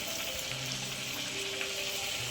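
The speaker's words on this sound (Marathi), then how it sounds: "हे बघा, पुरी सोडली" Puri deep-frying in boiling-hot oil over a wood-fired village stove gives a steady, dense sizzle with a soft bubbling hiss throughout, continuous and close, with no voices.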